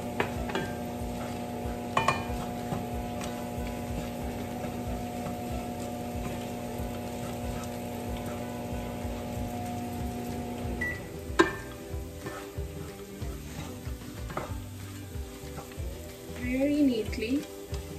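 Almonds, fruit and pecans being stirred into a pan for a rich sweet, a steady scraping and sizzling bed with a few spoon knocks and a faint beep, while someone speaks briefly.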